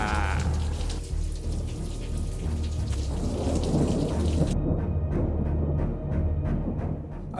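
A British thunderstorm with steady heavy rain drumming on surfaces and deep rolling thunder rumbling underneath, loud and continuous throughout.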